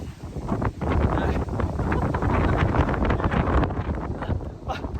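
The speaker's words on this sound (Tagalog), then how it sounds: "Grabe yung hangin" Strong wind buffets the microphone in a loud, continuous roar with gusty surges throughout.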